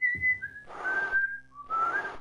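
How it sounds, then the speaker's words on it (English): A person whistles a tune in two clear melodic phrases separated by a short pause, close and fairly loud, with no talking over it. "I've just been whistling like..."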